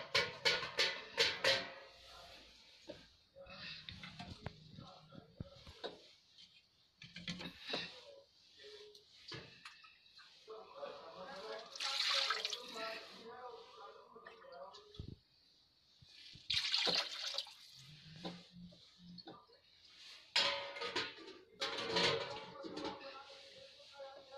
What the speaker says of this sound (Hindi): अब देखिए हम इसमें पानी ऐड करेंगे।